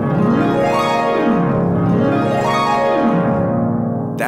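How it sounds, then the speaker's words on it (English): A programmed harp glissando played at forte sweeps up and down repeatedly in fast, dense runs, harsh and far too loud, then cuts off abruptly. "That sounds like someone is trying to destroy the harp,"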